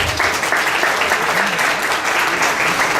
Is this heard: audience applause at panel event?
yes